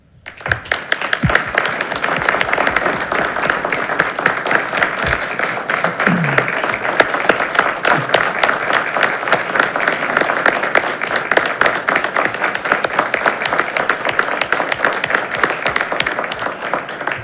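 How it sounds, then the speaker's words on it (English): Applause rings out in a city council chamber during a meeting, a steady, sustained round of clapping from the audience lasting over fifteen seconds, with brief low murmurs early on. "He doesn't want the applause to go on too long."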